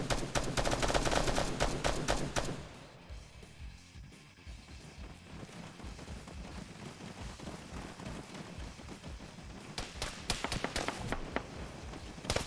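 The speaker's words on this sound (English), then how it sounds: "they immediately all start shooting" Dense video game gunfire from many shooters, rapid overlapping bursts that are loud and close for the first two seconds, then thinner scattered shots over a background rumble before a fresh heavy volley near the end.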